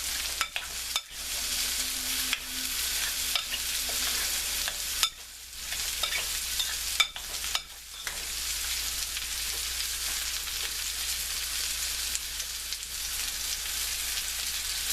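Olive oil being stirred into a black bean tapenade, with continuous close scraping and swishing interrupted by a few short pauses, moderately loud and with no one speaking.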